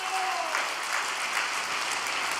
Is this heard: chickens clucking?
no